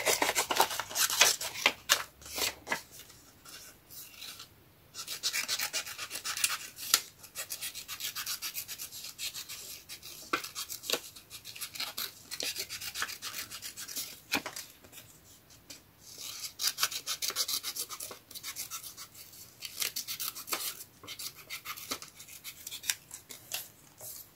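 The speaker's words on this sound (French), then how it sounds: "je vais le couper en deux" Scissors cutting a paper card in two for a shabby-style craft card, with close, crisp snips and rasping paper sounds repeating in uneven bursts, quiet pauses between them.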